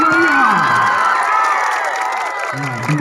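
Crowd at a junior high school alumni reunion clapping and cheering loudly, a dense wash of applause with shouts and whoops, close and continuous throughout.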